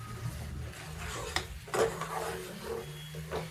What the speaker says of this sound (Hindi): अब इस मसाले को भूनेंगे थोड़ी देर के लिए